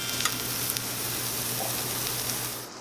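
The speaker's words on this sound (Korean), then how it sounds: "지글지글 사운드" Pork belly sizzling steadily on a hot grill pan at a Korean barbecue, a continuous crackling hiss with occasional pops, fairly close and without talk.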